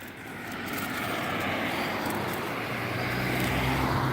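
Helicopter passing overhead outdoors at night, a steady broad engine and rotor roar that holds loud and unbroken throughout, growing slightly toward the end.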